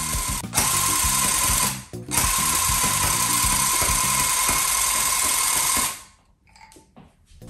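A tufting gun fires yarn into stretched canvas in a loud, steady mechanical buzz, broken by a short pause near two seconds and stopping abruptly around six seconds, leaving faint rustling.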